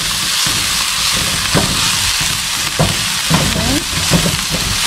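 Ingredients sizzling and frying in a pot over medium-high heat, a steady loud hiss with scraping stirring strokes cutting through at intervals; a brief spoken word comes in near the start.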